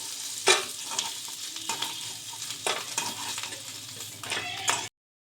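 Crab fries in hot oil in a wok, with a continuous close sizzle broken by several sharp spatula scrapes and stirring clatters, no voices present.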